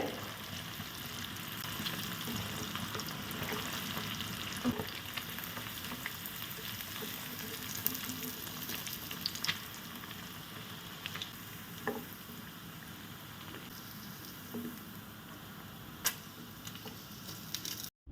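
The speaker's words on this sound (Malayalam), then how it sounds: "ഉള്ളിലൊക്കെ ഒരു മൊരു വരണമല്ലോ എന്ന് വിചാരിച്ചിട്ടാണ് ഞാനിപ്പം എണ്ണയിലിട്ടത്" Paneer pieces fry in hot oil in a steady, continuous sizzle with scattered faint ticks and pops, close and unbroken throughout.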